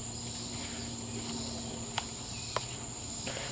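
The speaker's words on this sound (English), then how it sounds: "I think over here on the other side of the creek is where it sounds like the cicadas over there." Cicadas drone steadily from across a creek, a continuous thin high buzz heard at a distance, with a couple of faint clicks and no talk.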